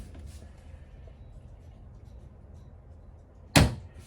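A single soft thud of a soft-close cabinet door on glide hinges closing near the end, after a stretch of quiet room noise inside a travel trailer RV.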